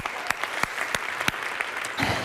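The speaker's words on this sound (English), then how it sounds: "Let's give her a round of applause." Audience applause at a women's history stage event, a steady patter of many hands clapping with sharp individual claps standing out, fairly close and filling the whole moment without talk.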